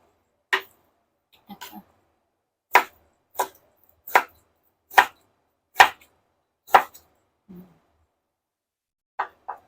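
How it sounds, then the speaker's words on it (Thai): A knife chops through bamboo shoots on a board, about ten crisp, separate cuts at an uneven, unhurried pace, close by with silence between. "ส่วนอันเล็กๆก็หั่นครึ่งเดียวพอ"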